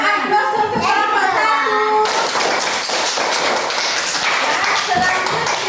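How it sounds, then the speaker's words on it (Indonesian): A classroom audience claps for a presenting group, with dense, steady applause that fills the room after a teacher briefly speaks. "kita berikan dulu aplaus untuk kelompok"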